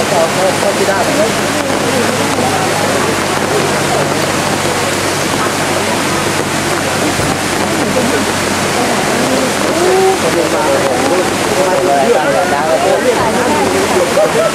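Waterfall pouring loudly nearby in a constant broad roar of rushing water, with no pause across the whole stretch.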